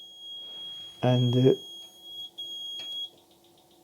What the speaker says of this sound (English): you reach our wake up time, the buzzer tone happen